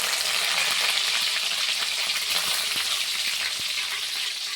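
Cumin, mustard seeds and curry leaves sizzling in hot oil, a steady, loud frying hiss scattered with small popping crackles throughout, with no voice.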